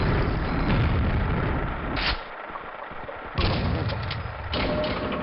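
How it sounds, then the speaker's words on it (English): A grenade launcher fires in Quake, with heavy booming blasts and thuds that are loud and close, separated by brief lulls in the game's rumbling. "I just activate it with the grenade launcher."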